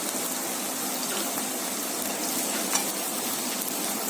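Peas and cashew nuts fry in a pan with oil, a steady close hiss and sizzle with faint scraping stir sounds throughout and no talk.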